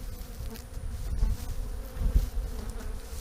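Agitated honey bees swarm around hives on a Florida bee yard, a dense, steady buzzing drone that rises and falls in waves, loud and close throughout with no voices.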